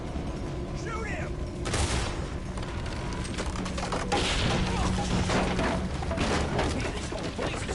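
Gunfire erupts in bursts amid a chaotic, burning scene, loud volleys of shots and thuds mixed with shouting voices and mechanical clatter, close and continuous over several seconds.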